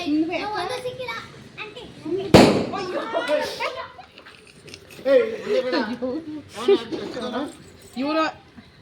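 One firecracker bangs sharply at close range among children chattering and playing, with excited voices continuing before and after the burst.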